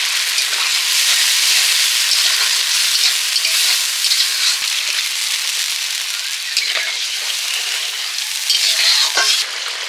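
Onion, ginger and tomato masala frying with panch phoron in oil, a loud continuous close sizzle with bright crackling and occasional stirring scrapes, no voices.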